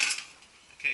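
Bolts from a classic Mini's rear subframe drop into a bucket with a sharp metallic clatter at the start and another clink near the end, short and close with a quiet gap between.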